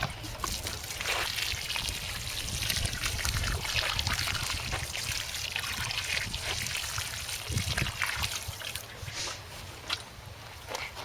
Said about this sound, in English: So I'll just give it a good old soaking.